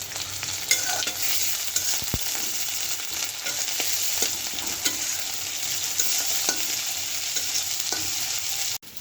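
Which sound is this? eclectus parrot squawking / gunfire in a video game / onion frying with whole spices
onion frying with whole spices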